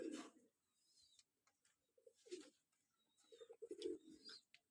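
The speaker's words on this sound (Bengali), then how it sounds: "এই দেখো আমাদের পায়রা কেমন ডাকছে" A pigeon coos softly and close by in short, throaty bursts with pauses between them, quiet rustling and faint chirps in the background.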